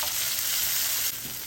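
Tomatoes with curry leaves fry in a pan for a homestyle egg curry. A brief, steady, loud sizzle hisses without pause, heard up close with no voices.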